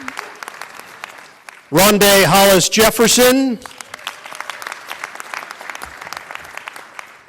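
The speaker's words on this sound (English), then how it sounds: "some applause." An audience claps in a short, loud burst of applause at the grand opening of the Brooklyn Nets training facility as players are introduced, with someone speaking over a microphone before and after.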